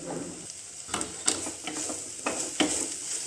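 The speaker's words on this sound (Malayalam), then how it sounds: "നന്നായിട്ടത് മിക്സ് ചെയ്യാം" Carrot, beetroot and other cutlet vegetables cook in a pan after a pinch of turmeric goes in, with a soft sizzle and repeated spoon scrapes stirring every half second or so; no talking.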